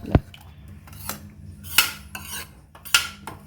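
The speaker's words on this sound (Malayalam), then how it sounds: "ഒന്ന് ഇങ്ങനെ കറണ്ടി കൊണ്ട് ഇങ്ങനെ ഒന്ന് അമർത്തി കൊടുത്താൽ മതി." A metal ladle presses cooked dal in a pot for sambar, giving a few sharp clinks and scrapes against the pot at irregular intervals, close and alone.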